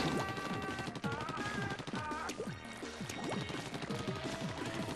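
Bombs burst in the Splatoon video game as a rapid series of splattering, crashing pops. Chirpy game effects and music run through the background. The blasts are fairly close and come in quick, irregular clusters.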